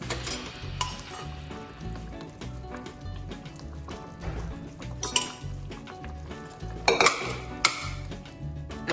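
Boiled dal and rice for Gujarati palak khichdi are stirred in a pot, a spoon scraping and clinking against metal with soft wet squelches, steady under a low background hum with no speech.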